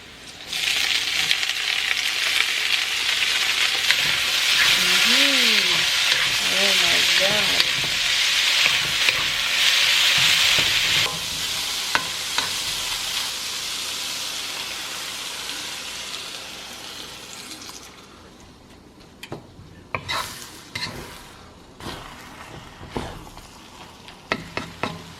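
Ampalaya sizzles and fries with onion and garlic in a pan, a steady loud hiss under stirring for about ten seconds, then fading into quieter clinks and scrapes of utensils.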